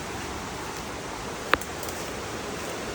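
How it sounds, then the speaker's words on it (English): Steady hiss of heavy rain pouring over a river fills the scene at moderate level, with one brief sharp tap partway through. "First time seeing the river while it's raining. Sounds heavy."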